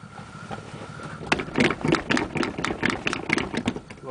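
A 1987 Ford one-ton truck engine idles after a cold start, a steady low rumble that grows louder with uneven pulsing surges partway through.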